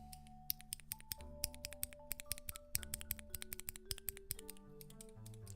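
Mechanical keyboard key switches are pressed in quick, irregular bursts of crisp clicks and clacks, close and fairly quiet, with no talk.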